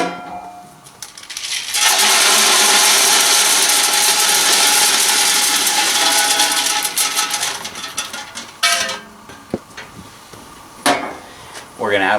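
Wood pellets pour into the 40-pound hopper of a REC TEC pellet smoker, a loud, steady rushing rattle that runs for several seconds before tapering into scattered clatters and knocks.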